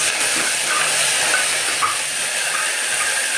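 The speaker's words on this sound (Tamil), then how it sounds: "எடுத்து வச்சுருக்க இந்த மசாலா எல்லாத்தையும் போட்டுருவோம். போட்டுட்டு நல்லா கிளறி விட்டுக்கோங்க." Masala spices sizzle in hot oil for a chicken gravy, a loud continuous frying hiss close by with faint stirring, no voices.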